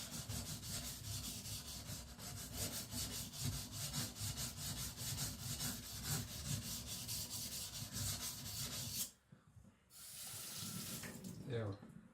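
Patrik Carlvik custom EDC knife being sharpened, rapid rhythmic rubbing strokes that sound wet and gritty, loud and close, stopping abruptly near the end before resuming more softly.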